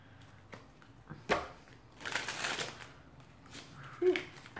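A tarot card deck riffles and rustles softly in a few short bursts of shuffling, with quiet handling noises between them.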